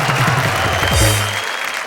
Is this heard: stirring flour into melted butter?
no